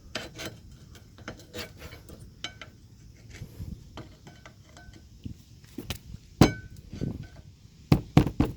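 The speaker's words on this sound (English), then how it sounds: "Just give them a little tap with the screwdriver." A screwdriver taps at stuck, unevenly worn brake pads, producing a string of small metallic clicks and knocks with a few louder sharp clinks near the end, close and fairly quiet.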